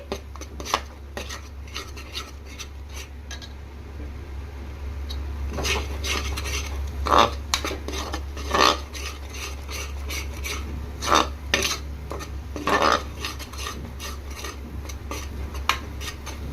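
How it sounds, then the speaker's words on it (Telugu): Masala paste fries over a medium flame for an ivy gourd masala curry, with a low sizzle under repeated metal spoon scrapes and clinks against the pan, irregular and close, with no talking. "మీడియం ఫ్లేమ్ మీద పెట్టుకొని ఫ్రై చేసుకోండి. ఇది అడుగంటకుండా బాగా ఫ్రై అవుతుంది ఈ మసాలా ముద్ద అనేది."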